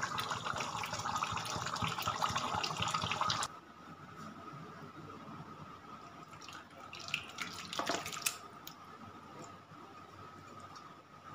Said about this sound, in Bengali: আমার কষানো হয়ে গেছে, এবার দিয়ে দেব জল।